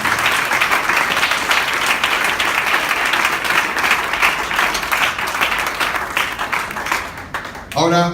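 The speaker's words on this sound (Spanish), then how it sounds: "Un aplauso fuerte." A church congregation claps loudly and steadily for about eight seconds, a dense close wash of hands that barely eases, with a voice breaking in as it ends.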